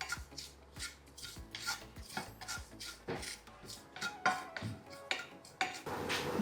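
Leftover masala mixed with half a spoon of jowar flour is roasted in a pan, heard as irregular close scraping and rubbing strokes from stirring, with occasional light clinks of the spoon.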